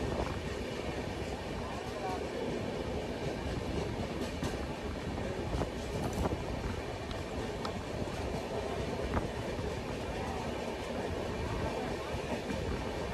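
The Falaknuma Express runs on rails, heard from inside a general coach on the Secunderabad to Howrah route: a continuous loud rumble with a scattering of faint rail clicks, steady for the whole stretch.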